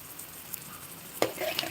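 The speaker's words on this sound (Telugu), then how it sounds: "టమాటో బాత్ కోసం టమాటో వేగుతుంది" Tomatoes fry in a pan for tomato bath with a low, steady sizzle, then a sharp utensil clink and stirring near the end.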